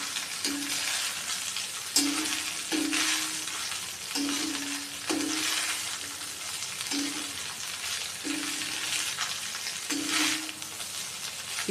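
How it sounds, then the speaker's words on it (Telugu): Mushroom fried rice stir-fried on a high flame, with a constant loud sizzle and regular scraping strokes of the spatula repeating about once a second, without talk. "ఇప్పుడు స్టవ్ హైలో ఉంచేసాం కదా, దీన్నంతా ఇట్లా కలుపుతూ ఉండాలి."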